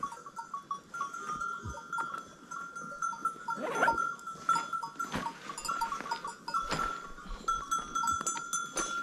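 A herd of black goats on a hillside pasture, with scattered bleats, clanking bells and shuffling hooves, moderately close, with faint human sounds in the background.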